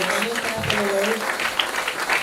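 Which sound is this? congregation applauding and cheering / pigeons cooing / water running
congregation applauding and cheering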